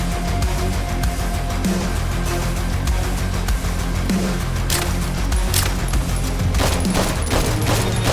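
Dense, continuous gunfire in the video game Intravenous 2, loud rapid bursts layered over one another with sharper cracks standing out toward the end and no talk.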